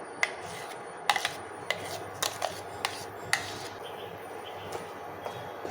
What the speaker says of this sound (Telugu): ఇది మొత్తం బాగా కలుపుకోవాలి